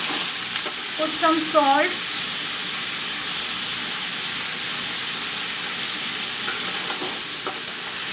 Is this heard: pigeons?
no